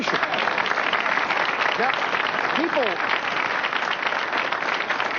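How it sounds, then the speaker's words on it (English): An audience gives a standing ovation, with steady, dense applause and cheering filling the whole stretch at even loudness, along with a few whoops and whistles. "He got a standing ovation."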